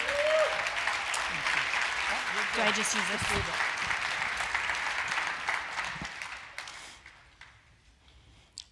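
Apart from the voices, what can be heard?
audience applause for a speaker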